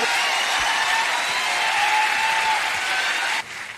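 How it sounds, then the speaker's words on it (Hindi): A large audience claps loudly to welcome a family onto a stage at a company event, a dense, even roar of applause that stays strong throughout and drops off abruptly near the end. "मैं चाहूंगा कि आप जोरदार तालियों से स्वागत करें"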